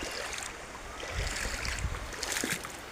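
River water flowing and splashing around a bamboo raft on a clear river in Palawan, a continuous rushing wash with low knocks and lapping, fairly close.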